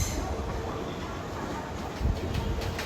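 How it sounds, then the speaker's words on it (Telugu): A MEMU passenger train bound for Cuttack rumbles past on the neighbouring track, a faint steady roar with a slightly louder surge toward the end. "కటక్కి వెళ్ళే మెమూ ట్రైన్ మనకి క్రాస్ చేసుకుంటూ వెళ్ళిపోయింది"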